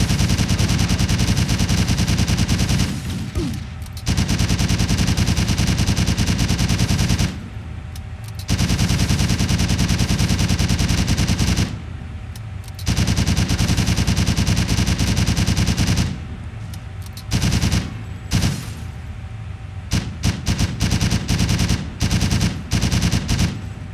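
Gunfire in the Driv3r video game: loud bursts of rapid automatic fire, repeated in long stretches broken by short pauses, then quicker, choppier volleys toward the end.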